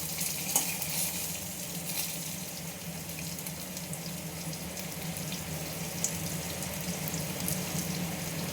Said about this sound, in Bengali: গোটা জিরে দিয়ে দিলাম। এবার একটু নেড়ে চেড়ে